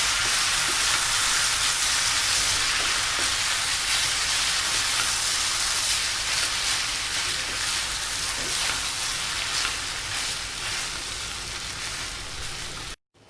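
Spices roast in a pan, giving a dense, steady sizzle and hiss that stays loud and even throughout, then cuts off abruptly at the very end.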